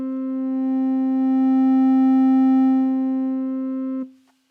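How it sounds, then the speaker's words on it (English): A steady, pure semi-sine wave tone from the complex oscillator of a Buchla Easel V synthesizer, soft and rounded in timbre, holds one pitch for about four seconds, swelling slightly, then cuts off abruptly. "The complex oscillator is a unique beast in that it had a semi-sine wave output"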